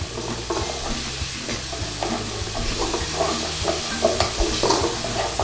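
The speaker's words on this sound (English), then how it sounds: "stir it all in." Tomato puree being stirred into chicken dopiaza sizzling in a pan, with steady frying hiss and repeated close scraping strokes of a utensil throughout, no talking.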